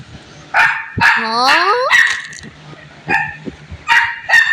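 A dog barks and yips at close range indoors, with several sharp bursts and a high whimpering whine between them.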